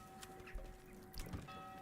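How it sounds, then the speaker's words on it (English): Chickens at a farm building in Manor Lords give faint, scattered clucks over quiet ambient game sound and a soft steady tone, with no talking. "This one has chickens and such."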